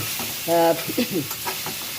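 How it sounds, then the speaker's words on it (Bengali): Sweet pumpkin pieces frying in a little oil in a home kitchen, with a short burst of sizzling and stirring scrapes, close and moderately loud, and no talking. "তো হয়ে গেছে ভাজা দেখা যাচ্ছে দেখেন নরম হয়েছে"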